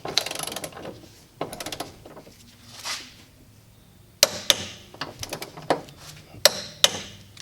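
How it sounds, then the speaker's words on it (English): A torque wrench ratchets as it tightens a 19mm bolt to 90 foot-pounds on a Genesis coupe subframe, in bursts of rapid clicking with pauses and a few sharper metallic clacks, close by. "Torque wrench, you torque down the 19mm bolt, 90 foot-pounds."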